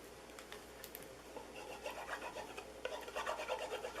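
A bone folder is rubbed firmly along folded paper to sharpen a crease. It makes quiet, repeated rasping strokes that speed up into a quick back-and-forth scraping rhythm near the end.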